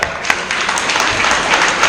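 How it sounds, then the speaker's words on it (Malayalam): Students in a classroom applauding with a big round of clapping, a dense, loud burst of hand claps filling the whole moment. "give A big clap"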